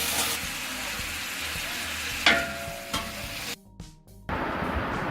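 Chopped tomatoes sizzle and fry in a pan while being stirred for mutton biryani, with steady close frying noise, a couple of sharp scraping clacks and a brief quieter dip near the end.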